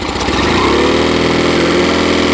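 A 2011 Mercury outboard motor with a bad fuel pump runs steadily at idle, loud and close, with a continuous even drone throughout and no voices.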